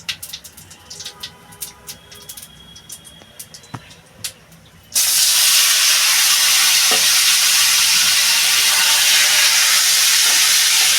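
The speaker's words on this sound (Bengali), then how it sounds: "আমি এখন তরকারিটা বসিয়ে দেবো" Curry with bay leaf and cumin hitting hot oil in a pan for a Bengali pabda fish curry with potato and papaya, a sudden loud continuous sizzle bursting in after a quieter stretch of kitchen clatter.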